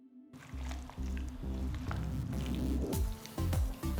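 Chicken wings being mixed by hand in a wet cornflour batter, giving repeated squelching, squishing strokes in a steady rhythm, close and fairly loud with no talking.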